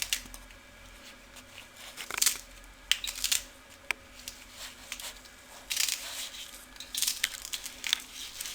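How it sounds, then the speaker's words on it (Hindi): Saag greens are finely chopped with a knife on a board: soft, quiet, irregular crunching cuts and scrapes in short bursts, close by, with no talk. "अब इसको बारीक बारीक काट लेंगे।"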